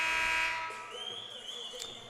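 A buzzer at a high school boys basketball game sounds loudly and steadily, then fades into crowd noise in a gym.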